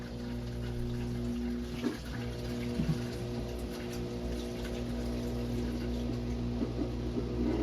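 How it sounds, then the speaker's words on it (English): A Samsung top load washer drains water in test mode, its drain pump humming steadily under a continuous rush of flowing water, close and even throughout. "it enters the drain cycle to test the drain pump function well"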